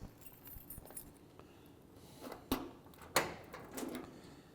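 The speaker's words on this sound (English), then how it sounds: "I'm gonna grab these keys so we can pop into the trunk." Keys jangle and clink in short bursts as they are grabbed to open the trunk of a 1965 Pontiac GTO, with a few sharper metallic rattles standing out over quiet background.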